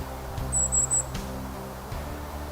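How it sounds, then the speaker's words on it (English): A golden-crowned kinglet gives three thin, high, rapid call notes from trees in a state park forest, clear but brief over a low rumble of outdoor background and footsteps. "Oh, golden crowned kinglets."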